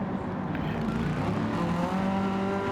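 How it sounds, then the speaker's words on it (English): A Super B touring car in a reverse-grid race pulls away hard under full throttle, its engine a steady, continuous drone at moderate distance with no voices over it. "it just plants that foot down and the car accelerates away."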